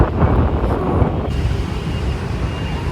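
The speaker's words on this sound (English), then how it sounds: "Feels so nice to feel the breeze from the river." Steady breeze off a river along a city promenade in Ho Chi Minh City, buffeting the microphone as a continuous rushing roar, close and without talk.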